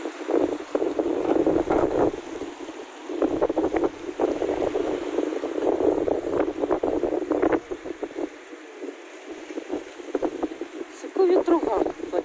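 Strong gusty wind buffets the microphone outdoors on a street in Odesa in winter, a loud continuous low roar with rising and falling gusts, while a person talks over it.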